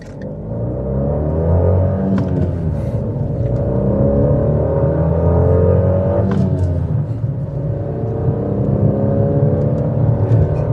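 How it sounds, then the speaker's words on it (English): A 2019 Fiat Panda Cross TwinAir with four-wheel drive pulls away on gravel, its small two-cylinder engine droning loud and close as it accelerates through rising, dipping revs without pause. "Easily pull away on gravel with no wheel spin because of the four-wheel drive."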